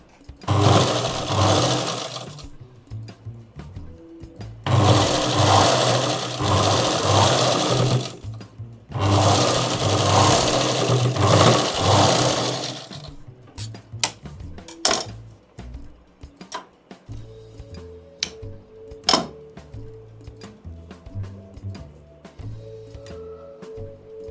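A sewing machine stitches a blouse, including a short reverse stitch to lock the threads. It runs in three long, steady whirring bursts, then gives scattered clicks and handling taps as the fabric is adjusted.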